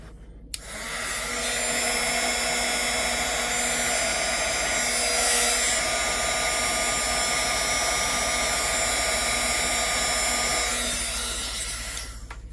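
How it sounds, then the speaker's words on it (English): A heat gun blows steadily on a 1990 Teenage Mutant Ninja Turtles Triceraton figure during a tail repair, a continuous loud whirring hiss of motor and airflow that runs unbroken for about twelve seconds with no talking. "So back to the heat gun."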